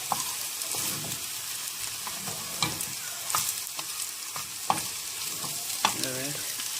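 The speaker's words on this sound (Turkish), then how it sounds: "Gördüğünüz gibi karıştırmaya devam ediyorum ben." Eggs with onions fry in a pan, a continuous sizzle broken by repeated sharp scrapes and taps of a utensil stirring against the pan at a close, moderate level.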